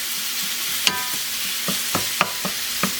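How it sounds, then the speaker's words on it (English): Ground beef browns in a pan with a soft, steady sizzle, broken by several sharp scrapes and clicks of a utensil stirring the meat at close range, with no talk. "let's just get our beef, ground beef, browned here"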